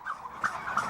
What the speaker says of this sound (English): Turkeys don't have much personality, but there are exceptions.